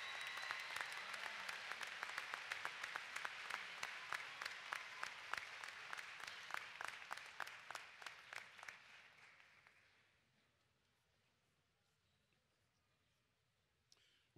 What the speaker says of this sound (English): Let's now give a round of applause for all of our master's degree recipients.